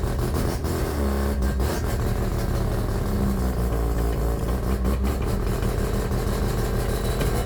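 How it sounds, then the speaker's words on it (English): A car engine runs steadily, close and constant, as the gearbox jams and locks up, with a few brief knocks over the engine noise and no talking. "That's the gearbox locking up"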